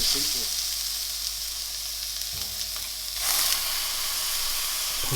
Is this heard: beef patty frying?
yes